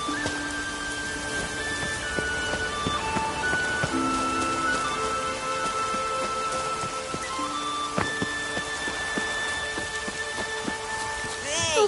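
Steady rainfall in the video game Witcher 3 hisses continuously through the whole stretch, mixed with sustained musical tones and scattered sharper ticks.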